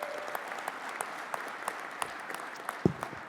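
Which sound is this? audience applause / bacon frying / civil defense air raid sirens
audience applause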